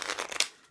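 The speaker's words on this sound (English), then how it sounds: "shuffle them lots of times" A deck of playing cards being shuffled, a brisk papery riffle of fluttering bursts that ends in a sharper snap, then fades out, close and fairly quiet.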